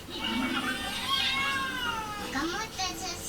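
Cat meows in a commercial, several drawn-out and wavering calls close and fairly loud over a busy background.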